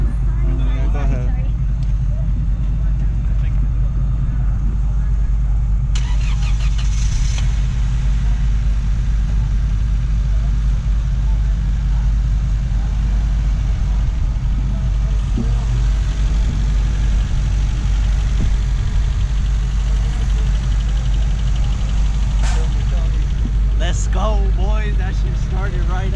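An auction Honda Civic engine starts and settles into a steady, loud idle that runs nearly the whole time, with people talking over the engine noise.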